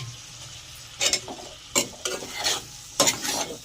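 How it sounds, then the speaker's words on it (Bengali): A spoon stirs boiled potatoes and peas into a sizzling spice masala for aloo dum, with several scraping strokes against the pan in an uneven rhythm over a low, steady frying hiss. "ভালো করে মশলাগুলোর সঙ্গে মিশিয়ে দেব।"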